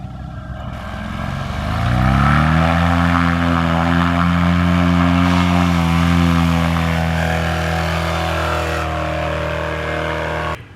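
A paramotor's propeller engine spools up for launch, rising from a low idle to a loud, steady droning roar that holds close and constant for several seconds.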